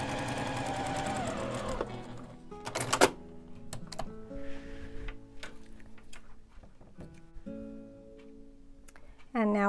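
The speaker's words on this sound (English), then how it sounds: "I'm going to start on one side of that pencil line and sew down" Domestic sewing machine stitching quilt pieces along a pencil line, chain piecing small hourglass blocks; steady close mechanical whirring in runs with brief pauses between seams.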